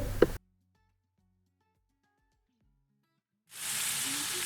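A short burst of loud sizzling cuts off into near silence, then a steady hissing sizzle returns as fried chicken and yogurt go into browned onions in a hot pot.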